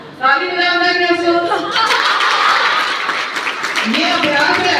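A group claps hands in rhythm during a laughter yoga session on International Yoga Day, with a dense patter of many palms mixed with laughing and voices after a leader's call.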